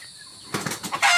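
Chickens in a backyard pen flap their wings in a quick flurry of brisk, rustling beats, close and fairly loud after a quiet moment.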